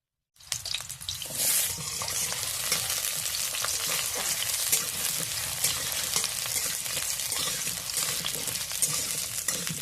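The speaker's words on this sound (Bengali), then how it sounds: "কড়াইতে তেল দিয়ে দিলাম আমি সবজিগুলো ভেজে নেব প্রথমে আলু দিয়ে দেবো" Potatoes frying in oil in a wok (kadai) for vegetable khichuri, a loud, dense, continuous sizzle that starts abruptly after a short silence and holds steady close up, with no voices.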